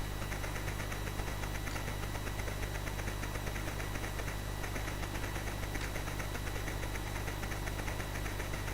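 The steam train engine in the Commodore 64 game The Train chugs on in a continuous, even, knocking rumble at constant level throughout, with no voices.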